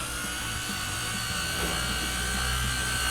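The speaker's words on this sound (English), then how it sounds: "is buffing the original paint at single stage" A polisher buffs the original single-stage paint on a 1969 Camaro, a steady high-pitched whine that runs loud and unbroken throughout.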